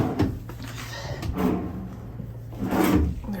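A hotel room drawer below a bathroom sink area slides and bumps three times in quick succession, close and fairly quiet, with soft wooden knocks and a faint background hiss.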